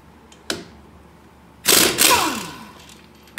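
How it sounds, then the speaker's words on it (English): An impact gun works on the last wheel hub bolt of a 2007 Saturn Ion during a hub assembly replacement, giving a short tap and then a loud rattling burst of about a second with a trailing whine in a quiet garage. "see if we can get the gun in on this last bolt"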